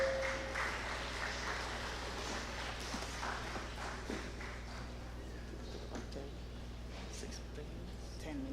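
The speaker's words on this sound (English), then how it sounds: "A round of applause" Audience applause at a technical summit conference session fills the hall, a dense patter of clapping that is strongest at the start and slowly thins, mixed with a low room hum.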